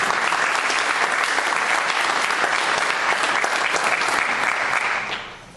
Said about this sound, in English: We should clap for you, too.